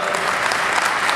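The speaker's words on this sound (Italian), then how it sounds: "chiedo un applauso a questi delegati" Audience applause for union delegates at an Italian pensioners' union (CISL) gathering, a dense, steady wash of many hands clapping together, loud and continuous with no talk over it.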